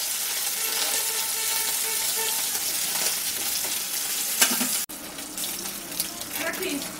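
Bele fish fry in hot oil with a continuous watery sizzle and a few faint clinks. The sound cuts abruptly near the end, then resumes slightly changed. No one speaks.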